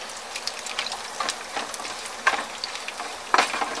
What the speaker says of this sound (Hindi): काजू ऐड कर देंगे, स्लो टू मीडियम फ्लेम पे अच्छे से भून लेंगे इन्हें।